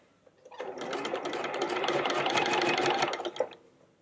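A sewing machine stitches smocking into fabric in a long, continuous run of fast, even needle clatter. It is close and loud, starting and stopping cleanly.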